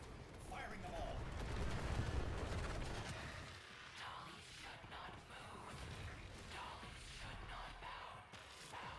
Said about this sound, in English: I've only got a few mortars left. Firing them all.